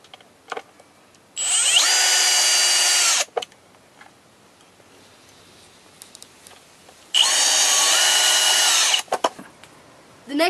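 A small power drill drives screws to mount longboard trucks onto a wooden plank, with two loud sustained bursts of whirring separated by a pause and a few short clicks and handling knocks.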